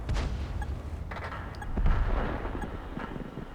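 Tiger (P) heavy tank cannon firing standard AP rounds in World of Tanks: two or three loud, booming blasts with rumbling tails, the last swelling into a sustained roar, no voices.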